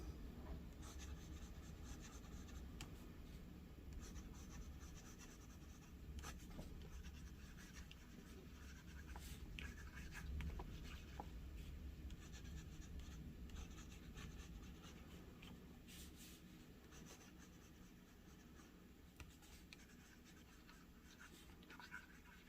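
Quiet, continuous scratchy rasp of a fountain pen with a zoom nib writing blue ink on A5 notebook paper, steady strokes with small ticks over a soft background hiss.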